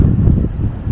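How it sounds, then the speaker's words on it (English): Strong seaside wind near Clevedon pier buffets the microphone, a loud low rumble that gusts and swells unevenly for about a second. "So I hope you can hear me over the wind,"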